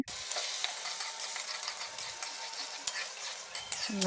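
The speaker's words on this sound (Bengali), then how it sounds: "এখন ডিমগুলো হালকা তেলে ভেজে আলু দিয়ে রান্না করব" Boiled eggs frying in a little oil in a home kitchen, a steady close sizzle with a few light stirring clicks, no talk.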